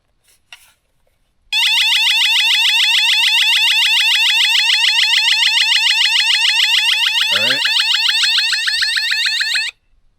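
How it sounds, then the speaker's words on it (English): A camping motion sensor alarm placed by a tent goes off with a loud, continuous warbling electronic siren that runs steadily for about eight seconds and then cuts out, with a brief low sweep partway through. "This guy is the motion sensor and that is the alarm."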